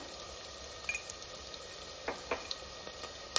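Okra frying in a pan with curry leaves: a quiet, steady sizzle broken by a few sharp crackling pops.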